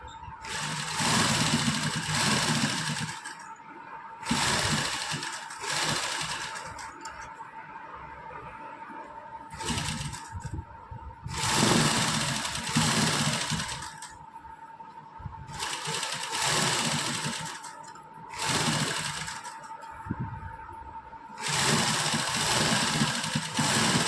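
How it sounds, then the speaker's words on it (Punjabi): Sewing machine stitching along the edge of lace attached to a suit, running in repeated bursts of steady mid-pitched whirring with short pauses between them, fairly close and alone. "ਬਿਲਕੁਲ ਇਹਦੇ ਕਿਨਾਰੇ ਕਿਨਾਰੇ ਤੇ ਸਲਾਈ ਲਗਾਵਾਂਗੇ"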